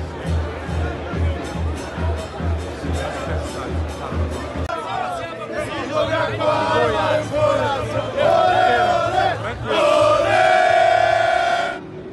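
A large crowd of football fans at a Grêmio vs Palmeiras match roars and chants, a dense, continuous swell with sung tones rising near the end, while someone talks close by.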